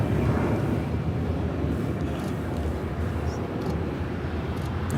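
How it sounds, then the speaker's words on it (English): American Airlines Airbus A321 taking off at Los Angeles airport, a broad steady jet roar heard from a distance, constant and rumbling throughout. "This is American Airlines 1995 taking off on this A321."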